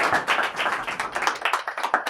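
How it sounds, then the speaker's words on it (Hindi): Audience applause welcoming an ayurvedic doctor onto a talk stage, a dense run of hand claps at moderate level that holds steady with no voices over it. "जोरदार तालियों से स्वागत करते हैं वैद्य शिखा प्रकाश जी का"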